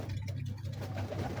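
A Ferozpuri pigeon coos in soft, low, continuous rolling murmurs, close and fairly faint, with no talk.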